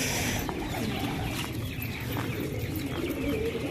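Sherazi pigeons cooing on a rooftop in Taunsa Sharif, soft low coos under a dense, steady outdoor background noise, faint and continuous with no clear voices.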